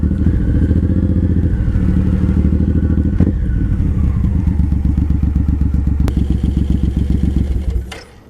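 A Suzuki M109R Boulevard cruiser motorcycle on a test ride gives a loud, close, continuous rumbling V-twin throb with steady pulsing firing beats that fade out at the very end.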